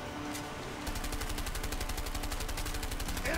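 Rapid automatic gunfire in the video game A Way Out, a fast, even train of loud close shots starting just under a second in and continuing to the end, with no speech.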